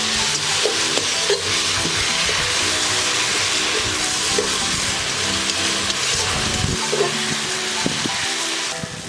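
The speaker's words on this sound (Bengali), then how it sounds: "ভালো মতন মশলার সঙ্গে টমেটো বাটাটাকে মিশিয়ে নিয়ে কষিয়ে নেব" Spices and tomato paste sizzling and frying steadily in a pan for a Bengali village-style fish curry, with occasional stirring scrapes over the continuous hiss.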